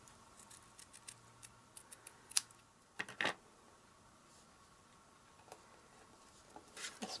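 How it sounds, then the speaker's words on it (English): Scissors trim a paper leaf for a handmade easel card, giving a few faint, quiet snips spaced across a soft background. "I think I might want to trim that leaf a little bit because it's a bit wide, so let's do that."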